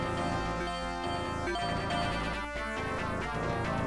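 A bell-like tone rings within a video game's music soundtrack, dense and continuous, with a steady layered melody playing throughout at moderate level.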